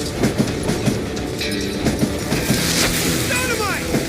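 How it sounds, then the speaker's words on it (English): A train in the western shooter Call of Juarez Gunslinger speeds along the tracks with a steady rumble and rhythmic clacking of wheels over rail joints, loud and close throughout, with a voice talking over it. "that train was flying down those tracks like a bat out of hell"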